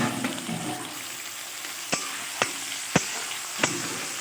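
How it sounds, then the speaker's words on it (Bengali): Onion, garlic and slit green chillies frying in oil in a pan for a Bengali prawn and taro-greens dish: a steady close sizzle with a few sharp clicks of stirring spaced through it, and no voices. "চেরা কাঁচা লঙ্কাগুলোও দিয়ে দিয়েছি, দিয়ে ভালো করে এটা ভেজে নেব।"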